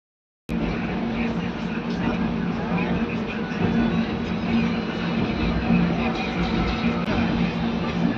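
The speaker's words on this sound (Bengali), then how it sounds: "আমাদের ট্রেন এখন আমেদাবাদে ঢুকছে।" Steady low rumble and rattle of a train pulling into Ahmedabad station, heard from inside, continuous and fairly loud, with a faint voice under it.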